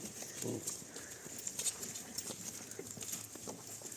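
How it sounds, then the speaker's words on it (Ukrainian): A horse being led, its hooves clip-clopping softly and unevenly on the ground at a moderate distance, with quiet farmyard background and no talking. "Що ми йдемо коня переводити?"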